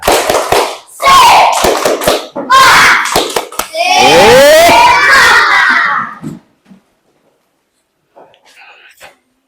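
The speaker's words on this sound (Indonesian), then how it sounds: "Tepuk semangat." Classroom of schoolchildren performing a rhythmic spirit clap, a burst of quick patterned hand claps mixed with chanting voices, loud and close, ending abruptly in quiet.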